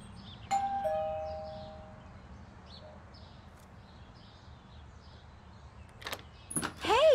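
In the video game Beyond: Two Souls, a doorbell gives a bright two-note chime early on, followed by quiet ambience, a few soft knocks and faint bird chirps toward the end.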